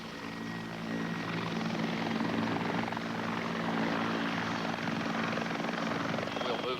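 A helicopter flies and slides sideways across the ground, its rotor and engine making a loud, steady, close throbbing roar throughout, with a voice faintly beneath it.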